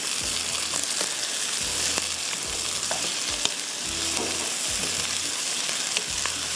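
Beef mince (qeema) sizzles steadily with masala in a hot pan, a continuous close frying hiss broken by regular scraping stirs and soft clacks of the spoon, with no talking.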